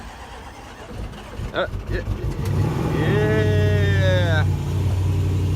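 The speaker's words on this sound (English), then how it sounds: "Our Range Rover is running" A Range Rover under rebuild, with freshly changed fuel lines, cranks, catches and revs up. It then settles into a loud, steady, close-up running engine note, and someone shouts in excitement over it.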